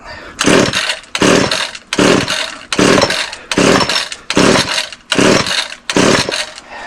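A Stihl FS56 string trimmer is pull-started again and again without firing: eight loud, evenly spaced rasping cord pulls, each a short whirring burst of about half a second, with no engine catching between them.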